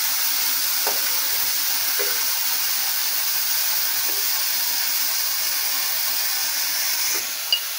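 Chiles frying quickly in hot oil, a steady bright sizzle crackling throughout, with a few soft clicks of utensils and a sharper tap near the end.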